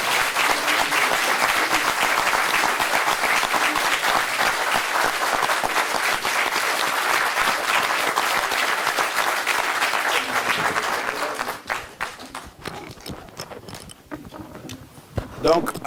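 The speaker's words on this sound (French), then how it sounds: "on l'adopte par acclamation" A large crowd at a political party installation ceremony breaks into long, loud, continuous applause to approve a proposal by acclamation. The clapping holds for about eleven seconds, then dwindles to scattered claps and murmurs.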